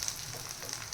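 Crispy corn cutlets fry in oil in a pan, giving off a steady, even sizzle that holds close and constant with no talking.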